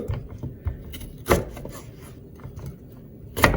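Raw chicken wings being chopped into large pieces, sparse knife or cleaver strikes on a board, with two sharper chops standing out among softer cuts.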